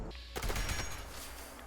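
Gunfire in the video game Fallout 76 from a commando-style build landing a headshot: a sharp shot burst near the start, followed by a short decaying rumble, fairly quiet overall.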